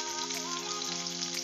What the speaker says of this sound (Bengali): একটু পেঁয়াজ কুচি দিয়ে দিচ্ছি।